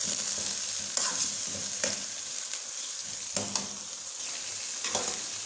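Chicken pieces fry with bitter gourd (karela) in a pan, giving a steady close sizzle, with a few sharp clinks and scrapes as the pan is stirred.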